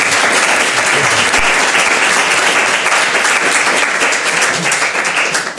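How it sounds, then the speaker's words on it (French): Dense, loud applause from a large conference audience, continuous clapping filling the whole stretch without a break. "Je crois qu'on peut encore les applaudir pour le temps et l'énergie que vous avez."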